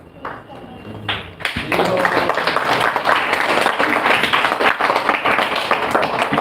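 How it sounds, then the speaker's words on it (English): Audience applause and clapping at an ISKCON temple gathering in KR Puram, Bangalore, a dense sustained roar of many hands rising after a brief lull and continuing steadily, close and loud. "You're clapping for yourself."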